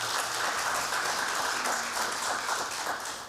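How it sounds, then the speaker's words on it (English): Audience applause for two candidates at the close of an SOS forum, a steady even patter of many hands held for the whole stretch at moderate volume, with no one speaking over it. "Let's give a round of applause to our two candidates."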